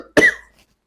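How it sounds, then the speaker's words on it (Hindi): A single sharp cough from a teacher in the middle of a Noorani Qaida Quran reading lesson, close and clear, followed by silence. "मुझे थोड़ी खांसी आ रही है।"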